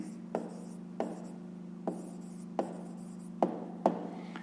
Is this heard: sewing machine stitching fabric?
no